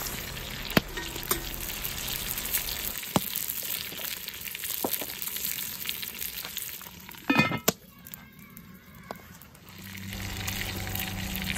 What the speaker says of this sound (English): I just kept browning the meat, as you can see, just mixing it around